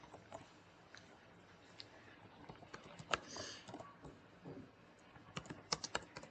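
Quick, uneven bursts of keystrokes clatter on a computer keyboard while Python code is typed, close and fairly quiet, with brief pauses between runs of typing.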